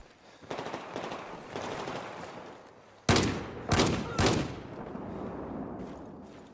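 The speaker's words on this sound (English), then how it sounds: "Somebody shooting." Gunshots ring out in a park, a rapid burst of sharp cracks followed by further loud bursts of fire over a steady outdoor background.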